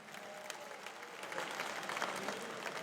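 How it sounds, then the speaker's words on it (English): A high school graduation crowd applauds the teachers, a soft, distant, continuous patter of clapping that swells slightly toward the end. "Let's give them a round of applause for all the teachers who helped to get you here."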